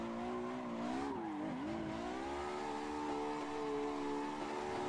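Drift car in a virtual drift championship racing game held at full throttle, its engine a loud, steady high-pitched drone with a brief dip and recovery near the start, alone without talk.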